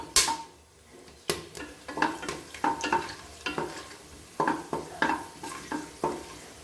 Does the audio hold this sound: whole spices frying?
yes